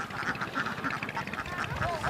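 Laying ducks on a duck farm quack repeatedly and close by, a dense overlapping chorus of nasal calls with no pauses.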